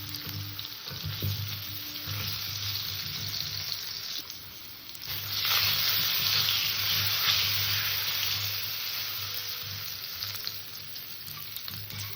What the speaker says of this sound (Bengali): এই মাছ ভাজা তেলের মধ্যে আলু কটাকে একটু ভেজে নেব